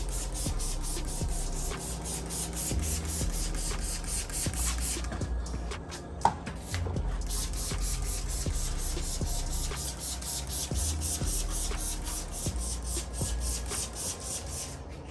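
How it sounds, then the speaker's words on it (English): Continuous rapid spraying of McKee's 914 car wash liquid from a trigger spray bottle, steady repeated spritzes close by with one brief pause midway, no voices. "We've got our McKee's 914. We're just gonna spray all over this"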